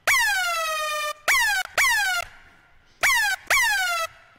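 Gritty laser synth patch built in Massive in an Alvin Risk style: five loud, buzzy zaps, each a sharp downward-sweeping pitch drop lasting about half a second, in a stuttering rhythm with short gaps, heard alone with no talking.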